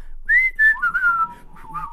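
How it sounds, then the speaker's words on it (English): A person whistles a short tune close up, clear pitched notes sliding up and down in a few quick phrases, alone with no talk over it. "Best way to act inconspicuous, whistle to yourself."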